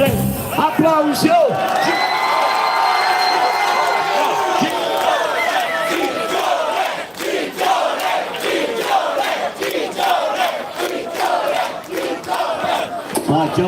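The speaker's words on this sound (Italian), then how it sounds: "applausi!" A lively crowd at a live show with a performer leading them breaks into loud cheering and clapping, with shouts and whoops rising over the applause throughout.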